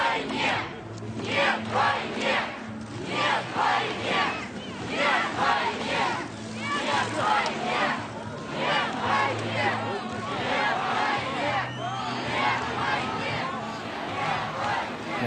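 Street protest crowd in St. Petersburg with police moving in, a large mass of voices chanting and shouting in rhythmic repeated bursts, loud and sustained with echoing hubbub throughout.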